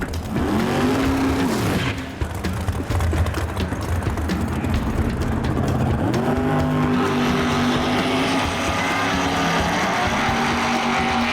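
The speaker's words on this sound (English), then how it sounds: "Up next on the starting line, that's Brittany Force with her Supercomp dragster." A Supercomp dragster roars at full throttle down the drag strip, its engine pitch rising and falling as it revs, loud and continuous throughout.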